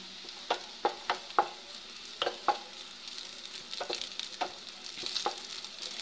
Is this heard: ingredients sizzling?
yes